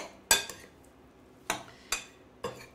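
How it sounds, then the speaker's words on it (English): A utensil clinks against a bowl while sliced strawberries and mixed berries are stirred together, giving several sharp, separate taps spaced irregularly, fairly quiet and close. "we're gonna mix this all together and to get it fully incorporated"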